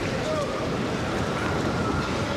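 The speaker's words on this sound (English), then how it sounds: "Still breezy." Steady wind gusting across an outdoor tennis court during a fifth-set match at the 2002 US Open, a constant loud rushing roar of wind noise with faint speech beneath it.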